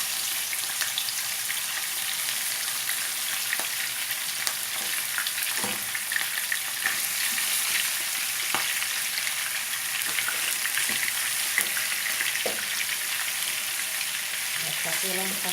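Seasoned chicken frying in hot oil for Somali rice, a dense, continuous sizzle with scattered crackles and pops plus occasional stirring clatter, close and steady throughout.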